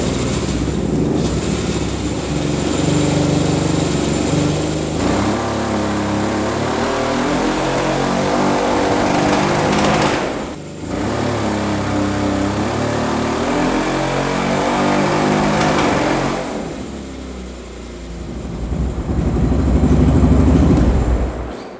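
A motorcycle engine powering a swamp buggy revs hard under load, a loud sustained roar with stepped pitch changes, dropping briefly near the midpoint and again toward the end before climbing back up, with no talking.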